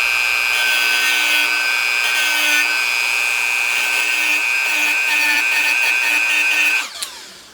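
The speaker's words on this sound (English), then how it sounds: "So I'm just going to Dremel down a little bit because it's just a little too big." A Dremel rotary tool grinds down the metal key of an electric skateboard motor with a steady, loud, high-pitched whine that runs unbroken for almost seven seconds and then winds down abruptly.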